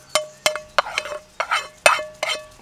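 Pasta carbonara stirred in a small non-stick Trangia pot, a spoon scraping and clinking against the metal in an irregular run of about eight close, bright knocks.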